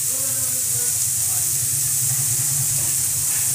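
Onions sizzling in a hot pan for a bread bajji stuffing, a loud continuous frying hiss filling the whole stretch, close and steady.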